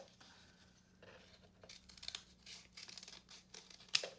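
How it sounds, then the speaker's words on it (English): Scissors snipping through folded paper to cut out leaf shapes, a run of soft crisp cuts and rustles close by, quiet and with no talking. "So go ahead and start your cutting."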